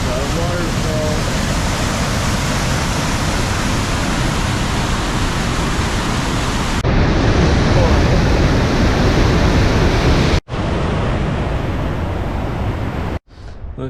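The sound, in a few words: waterfall near Dinwoody Creek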